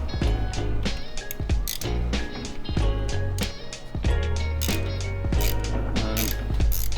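A ratchet with a T20 bit works the oil filter housing on a Volkswagen Golf Alltrack 1.8L TSI, giving rapid, close pawl clicks in repeated bursts of cranking throughout.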